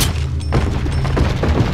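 Shotgun fire in Resident Evil 4, a few heavy booming blasts in quick succession over a low rumbling background, close and loud.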